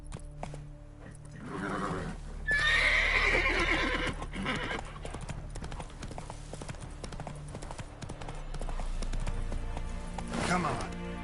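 Roach, the horse in The Witcher on PS5, whinnies loudly and neighs again near the end, while hooves clip-clop in a steady trotting rhythm under a voice and game ambience.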